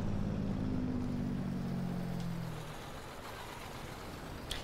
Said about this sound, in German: Ich feiere den Motorsound von dem LKW. Der ist echt toll.